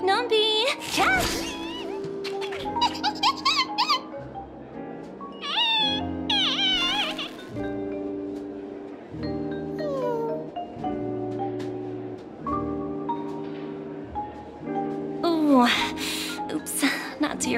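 A cat meows in Honkai Star Rail, with several short, high, bending cries over light game music, plus a few whooshing effects, loud and close.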